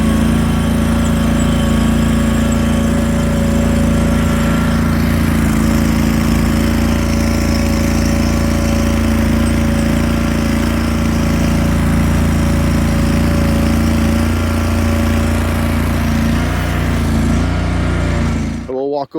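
Case Ingersoll loader fitted with a Honda engine, running in high range with a loud steady drone and tonal hum close by, cutting off abruptly at the end.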